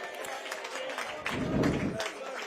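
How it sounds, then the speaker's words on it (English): A football crowd at Meadowbank applauds a goal scorer during a Dorking Wanderers match against Leatherhead, with a brief swell of distant clapping and cheering under steady commentary. "He gets a very nice reception from the Meadowbank crowd."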